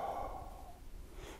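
A slow, audible exhaled breath during a Qi Gong exercise, a soft airy sigh heard close and alone, fading out over about a second.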